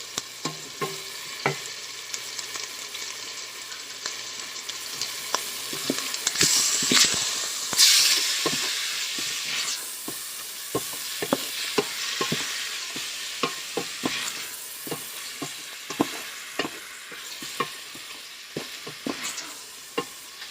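Garlic sizzles with browned hamburger meat in a pot, a continuous frying hiss broken by repeated scrapes and clanks of a spoon stirring, the sizzle flaring louder for a few seconds in the middle.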